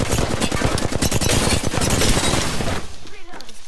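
Heavy sustained automatic gunfire in a shooter video game, loud rapid shots packed together for most of the stretch, then cutting off into quieter sounds with brief talk.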